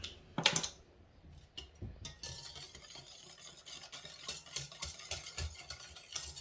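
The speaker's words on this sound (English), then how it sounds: "now stir it all up" A spoon stirs barbecue sauce in a pot, making irregular close clicks and scrapes against the pot, with a loud clatter near the start and a faint sizzle underneath.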